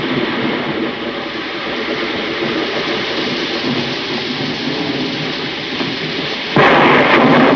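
A thunderstorm in a 1948 film noir gives a loud, continuous rumbling roar like heavy rain and rolling thunder, swelling abruptly louder near the end, with no voices.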